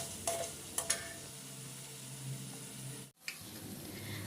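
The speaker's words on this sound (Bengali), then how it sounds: "আমার এখানে মশলা ভাজা হয়ে গিয়েছে।" Spices fry in oil for a Bangla beef liver bhuna, a quiet steady sizzle broken by a few sharp clinks and scrapes of stirring and a brief pause near the end.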